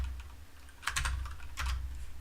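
Short key combinations tapped on a computer keyboard come in two brief clusters of crisp, close clicks separated by a quiet gap, with no voices.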